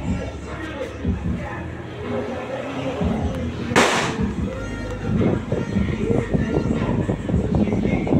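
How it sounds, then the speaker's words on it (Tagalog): Distant fireworks pop and crackle amid a noisy crowd with chatter throughout, one sharp loud blast standing out near the middle. "Last one na fireworks end ko na to, guys."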